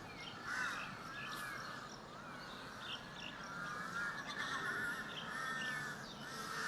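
Several crows caw from the trees of Lumpini Park in Bangkok, repeated harsh calls overlapping at a distance, faint against a soft outdoor background with no talking.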